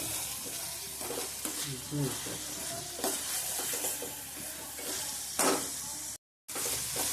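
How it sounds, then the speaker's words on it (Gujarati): Loud continuous sizzle of spices frying in hot ghee, with stirring scrapes and a brief sharp clatter; a few spoken words briefly, then sizzling resumes after a short gap. "તો હવે આપણે આની અંદર આપણે મસાલાનું સાતળી લેવાનું"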